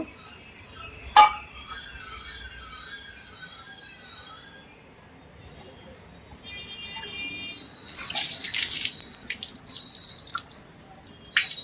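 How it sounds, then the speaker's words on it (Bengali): Tap water runs over cleaned copper and brass utensils in a sink, a faint splashing that picks up in the latter half, with a brief clink of metal early on. "পরিষ্কার হয়ে গেছে এবার জল দিয়ে ধুয়ে ধুয়ে"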